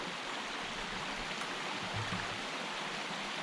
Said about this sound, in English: You can just see as the water flows.